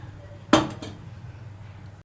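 A metal lid clanks onto a pot of kadhi in a home kitchen, one sharp clatter followed by a couple of lighter rattles, then quiet.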